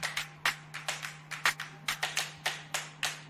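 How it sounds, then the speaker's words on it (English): A single person claps hands steadily, about a dozen sharp claps in an even rhythm, close and clear over a low steady hum, in a home kitchen while cooking pasta. "when y'all are listening to this clap clap, y'all can start clapping"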